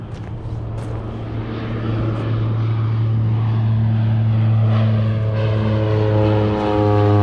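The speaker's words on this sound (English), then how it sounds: "Another plane taking off, going over to Denali. You'll hear it taking over." A propeller ski plane taking off toward Denali in Alaska, its engine a steady drone that grows gradually louder over several seconds, heard alone without voices.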